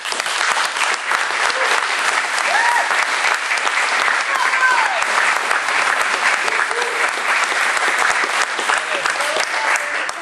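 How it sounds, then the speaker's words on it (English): Sustained, dense applause from a banquet audience at a 2009 soccer awards event, steady clapping filling the room for about ten seconds with faint voices mixed in. "If you wouldn't mind giving them a round of applause"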